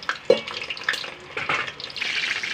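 Stuffed capsicums set back into a pan to cook, with a light sizzle and a few clattering knocks as they are placed, followed by a steady soft frying hiss.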